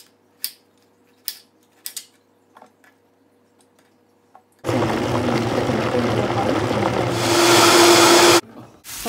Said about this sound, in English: Cut the tomato into big pieces and puree it in a blender.